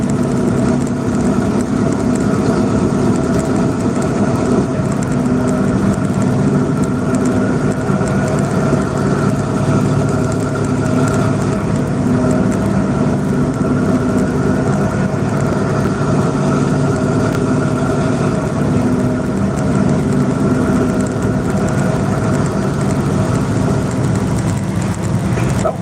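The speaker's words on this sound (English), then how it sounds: "It's idling now." A semi truck engine idles steadily and continuously throughout, a loud, even low rumble with a constant hum and no voices over it.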